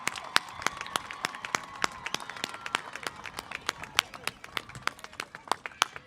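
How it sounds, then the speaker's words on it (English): Scattered, distinct hand claps ring out at a graduation ceremony, fairly sparse and uneven rather than a full roar, with faint murmuring in the background. "Please give them a round of applause."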